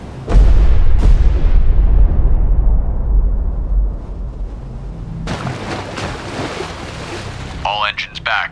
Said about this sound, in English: Ready depth charges.